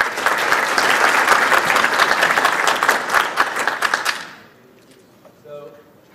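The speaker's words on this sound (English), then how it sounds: "let's all give a little round of applause for all the presentations from yesterday" An audience at a 4D Summit keynote gives a hearty round of applause that stops abruptly after about four seconds, leaving near silence with a faint voice.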